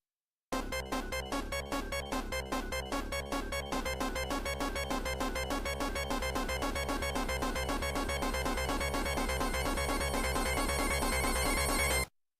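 Game time alert sound effect, a rapid, evenly pulsed electronic ringing tone that repeats steadily for about eleven seconds before cutting off.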